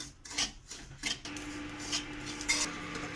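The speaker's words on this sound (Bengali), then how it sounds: "2 মিনিটের মতন ঘষে ঘষে ভেজে নিতে হবে।" Semolina being stirred and dry-fried in a pan, with scraping strokes of a spoon against the metal coming in irregular bursts and a soft sizzle beneath, close and moderately quiet, no voices.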